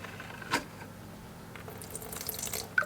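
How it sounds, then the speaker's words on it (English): Water runs briefly from a tap while measuring 15 millilitres for gingerbread dough, a short faint splash near the start with a few soft trickles and drips following in a quiet kitchen. "we need a bit of water, 15 millilitres"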